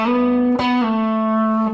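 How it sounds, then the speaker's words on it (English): Sustained distorted electric guitar lead from the solo in a song, a held note with a quick pick attack and a slide into a new pitch, loud and close with no talking. "So now the actual solo sounds like this."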